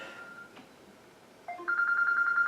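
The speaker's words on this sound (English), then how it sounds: "I'm sorry, that's my phone." A mobile phone starts ringing indoors, its electronic ringtone entering as a steady, pulsing tone that grows louder and repeats to the end.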